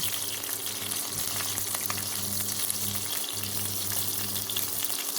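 Lard cracklings render in a hot pan, giving a dense, constant sizzle and spitting crackle close up, steady throughout with a low background hum and no talking.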